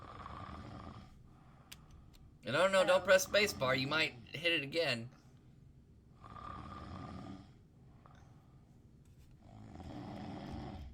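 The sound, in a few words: snoring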